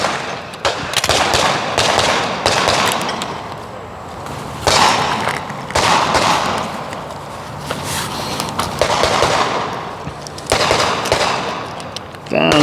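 Sharp gunshots crack in irregular bursts during a movement and transition shooting drill at an outdoor range, loud and close, with footsteps between strings of fire and no talking.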